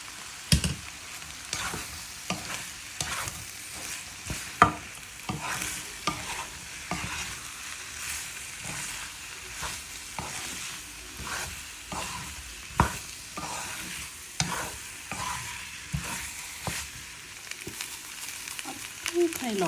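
Pasta and sauce, with mushrooms nearby, sizzle in a pan while a utensil scrapes and clacks against it in an irregular run of stirring strokes, close and fairly loud.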